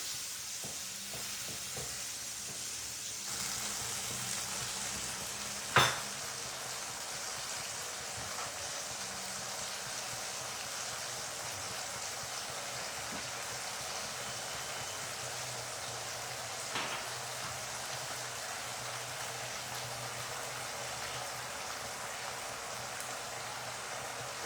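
Pureed tomatoes cooking in ghee give off a steady, even sizzle and fine bubbling hiss that runs the whole time at low volume, with one sharp knock partway through and no talking.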